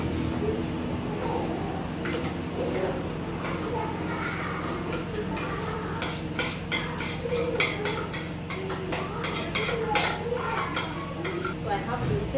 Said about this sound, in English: So I have to stir it and stir it gently and allow it to mix.